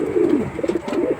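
Young pure white Wedding Line pigeon, sick with swollen eyes, giving a soft low cooing call in a few close, gentle throaty pulses.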